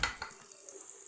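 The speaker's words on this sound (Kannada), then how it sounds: "ನಾನು ಸಣ್ಣದಾಗಿ ಹೆಚ್ಚಿಟ್ಕೊಂಡಿರೋ ಈರುಳ್ಳಿ, ಎಣ್ಣೆ ಹಾಕ್ಕೊಂಡೆ ನೋಡ್ರಿ ಒಗ್ಗರಣೆಗೆ" Finely chopped onion dropped into hot oil for tempering dal, a soft sizzle and a couple of light stirring clinks that fade into a faint steady frying hiss.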